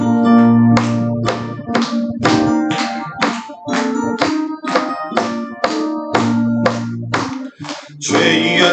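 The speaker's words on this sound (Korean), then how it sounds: "우리 박수 치면서 찬양합니다" A church congregation claps in a steady, even beat while singing praise, the sharp claps landing about twice a second over sustained musical tones.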